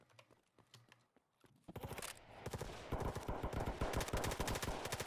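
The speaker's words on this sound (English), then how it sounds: "I think I hear you guys fighting right now. Let's go the gunfire, Gems." Bursts of rapid gunfire in DayZ crackle and grow louder, with rattling automatic fire following a few scattered shots.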